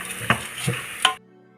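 Rice being stirred with masala in a pot for vegetable biryani: three distinct scraping clinks of a spoon against the pot over a soft sizzle, then near silence.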